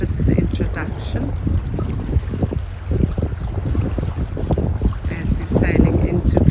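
A sailboat under way on the approach into Curaçao, with steady wind buffeting the microphone and water rushing along the hull in a continuous, loud wash that swells slightly toward the end.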